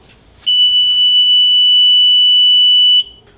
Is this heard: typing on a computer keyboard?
no